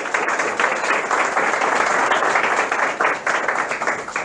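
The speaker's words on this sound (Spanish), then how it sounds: "de verdad un fuerte aplauso para ustedes nuevamente" A seminar audience breaks into sustained loud applause, dense clapping from many hands filling the room evenly from start to finish with no break.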